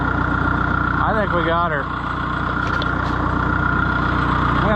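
A FIAT Oliver 1365 tractor engine idles steadily and close, a continuous low rumble running throughout while someone speaks briefly over it.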